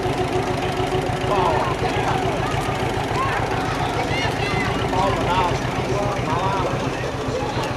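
Tractor engine idles with a low, steady chugging throb at a veterans' parade in Gonzales, Louisiana, running continuously under people talking nearby.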